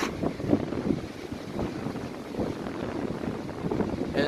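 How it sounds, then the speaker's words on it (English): Strong wind gusting around an antenna mast built from EMT pipe outdoors, a loud, continuous rush that roars into the microphone with rising and falling gusts and no voices. "And it's just whipping around the wind right now"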